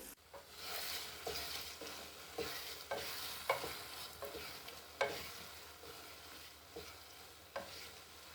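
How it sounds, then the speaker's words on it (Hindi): Matar keema with green chillies, chopped coriander and ginger frying in a pan, stirred in a steady rhythm of scraping strokes over a constant sizzle. The sound is fairly close and quiet, with no talking. "2 से 3 मिनट हम मजीद भून लेंगे"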